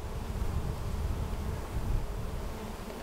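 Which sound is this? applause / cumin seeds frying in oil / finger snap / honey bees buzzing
honey bees buzzing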